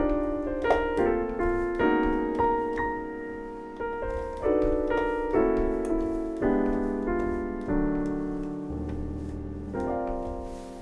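Rich jazz and neo soul piano chords played one after another in a slow, flowing progression, each chord ringing out with soft melodic notes on top; no talking.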